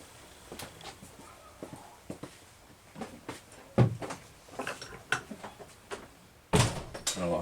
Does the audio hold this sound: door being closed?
yes